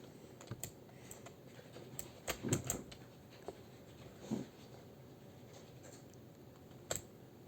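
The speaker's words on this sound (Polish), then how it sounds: "w tle słychać klawiaturę, bo mój brat gra" Scattered keyboard clicks and key taps come in short irregular bursts, fairly faint, with a low background hum.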